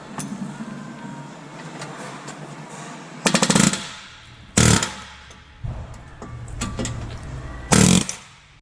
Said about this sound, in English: We're going to just use an air chisel to cut this old clamp off.